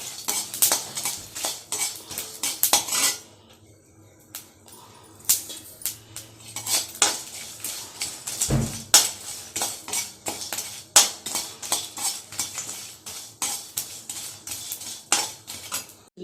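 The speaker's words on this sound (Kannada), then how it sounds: "ಎಣ್ಣೆ ಹಾಕ್ಕೊಂಡು ಚಕ್ಕೆ ಹಂಗೆ ಹುರ್ಕೊಳ್ತೀವಿ" Cinnamon bark being roasted in oil in a pan, with repeated sharp metallic clinks and scrapes of a utensil against the pan at an irregular rhythm, close and fairly loud, and no voices.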